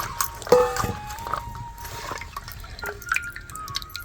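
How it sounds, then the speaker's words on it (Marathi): Water dripping and trickling off washed soya chunks (veg chicken) set to drain, with scattered close drips and small splashes that are faint and irregular, no talk over them. "बघा कसं पाणी निघतं"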